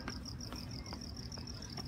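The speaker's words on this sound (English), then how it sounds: "That's a cricket, my friend." A cricket chirps in steady, evenly spaced pulses, a thin high trill repeating about every half second, fairly close and alone with no talking.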